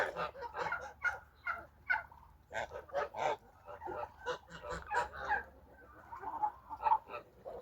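Large domestic geese honk and call over and over in loud, close bursts of uneven rhythm, some calls overlapping, with no human voice.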